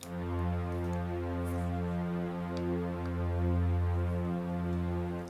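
Sampled Logic Pro strings (Factory Pop Strings, EXS Strings 2) held in octaves drone steadily and smoothly throughout, with no breaks or other sounds.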